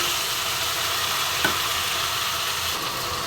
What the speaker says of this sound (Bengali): দেখো বন্ধুরা, মশলাটা ভালোভাবে কষে যাচ্ছে, একটু কষতে দেবো যতক্ষণ না তেল বেরিয়ে আসে উপরে।